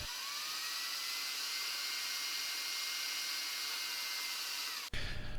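Rotary tool drilling a pin hole about 1.5 centimeters deep into a lure mold master, a loud, steady high-pitched whine held close and alone for about five seconds before cutting off abruptly.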